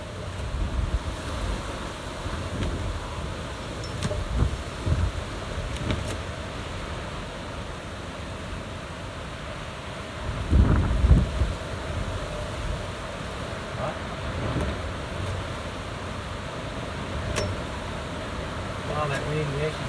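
Gusting wind outdoors in the Blue Mountains, Australia, a steady rushing roar that swells into a louder gust midway, with a person talking over it at times.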